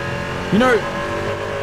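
An LMP3 race car at full throttle on the Nürburgring gives a short, loud engine surge midway that rises and then falls in pitch, heard over a steady background drone.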